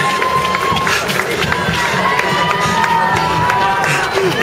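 Spectators line the London Marathon course, cheering and shouting in a continuous crowd roar with scattered clapping, while runners pass close by and voices call out over the noise.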